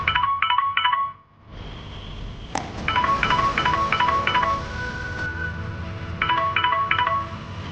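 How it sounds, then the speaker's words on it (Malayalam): A phone ringing in a Malayalam audio drama: clusters of bright electronic beeping tones repeat in short bursts, with a brief lull and a sharp click between rings, and no voices over it. "അപ്പോഴേക്കും അവന്റെ ഫോൺ റിങ് ചെയ്തു"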